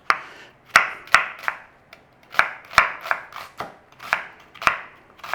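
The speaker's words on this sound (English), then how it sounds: "Now we want a small red onion sliced." A knife slices a small red onion on a cutting board, sharp irregular chops close by, sometimes in quick pairs, with short pauses between strokes and no talk.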